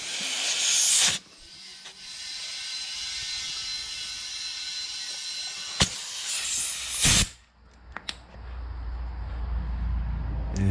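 Air hisses steadily from a Mastercraft air compressor hose reel in a garage, with sharp louder bursts near the start and around the seven-second mark, then a continuous rushing flow to the end.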